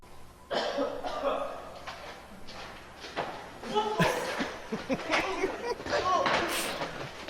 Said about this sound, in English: he gives a cough